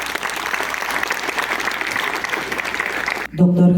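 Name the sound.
audience applause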